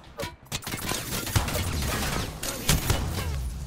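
Rapid bursts of gunfire in an Apex Legends-style shooter game, dense and sustained across the whole stretch with sharper impacts and crashes mixed in, loud and close.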